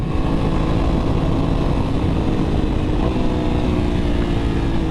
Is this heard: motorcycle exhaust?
yes